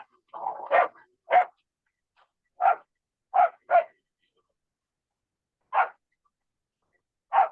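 A pet dog barks in a home during an online group session, giving a series of short, sharp barks spaced irregularly with quiet gaps between them, fairly close and loud with no talk over them.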